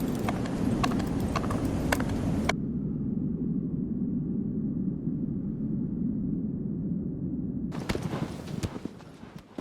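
Horse hooves clip-clopping at a steady gallop in the video game Shadow of the Colossus, loud and close, with a soft whooshing wind bed and rhythmic hoofbeats running throughout, no voices.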